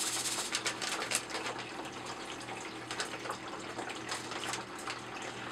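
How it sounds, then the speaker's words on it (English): C-41 color film developer chemicals pour and splash steadily from a pouch into water for several seconds, a continuous rushing trickle heard up close with no talking. "We're going to just take our first pouch and pour it in there."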